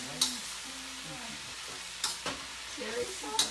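Rice is stir-fried in a pan with Lao Gan Ma chili sauce, giving a quiet, steady sizzle broken by a few sharp spatula scrapes and clatters.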